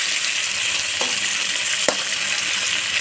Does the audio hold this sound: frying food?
yes